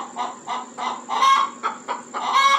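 Bantam chickens cluck and murmur nearby in a quick, uneven series of short calls, a few rising into louder squawks, with no one talking over them.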